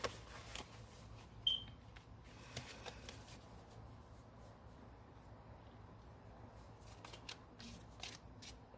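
Tarot cards shuffled by hand, soft papery riffles and taps scattered across the stretch, faint and close in a quiet room.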